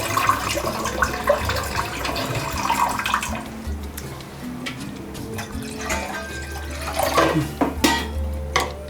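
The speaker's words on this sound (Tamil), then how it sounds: "மீல் மேக்கரை போடுறதுக்காக தண்ணி ஊற்றுறேங்க" Water pours into a cooking pot set on the stove to boil soya chunks. It is a continuous splashing stream with small clinks, fairly close and loud, and no one speaks.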